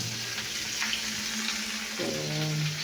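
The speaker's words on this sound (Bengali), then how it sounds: "সর্ষেটাকে একটু আমি ধুয়ে নেব" Water running and splashing as mustard seeds are rinsed in a bowl, a steady close wash of flowing water with a shift in pitch partway through, no talking.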